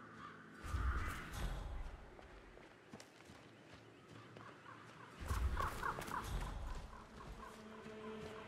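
Crows caw in the Hitman 3 video game, two louder bursts of harsh calls near the start and again midway over quieter game ambience and scattered footsteps.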